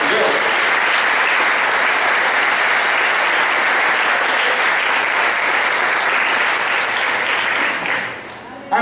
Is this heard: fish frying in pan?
no